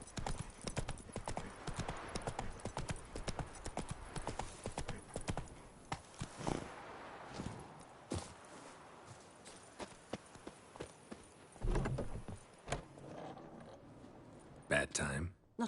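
Horse hooves clip-clop in The Witcher 3 video game, a quick rhythmic gallop with gear and mechanical clatter, fading and returning, with brief speech near the end.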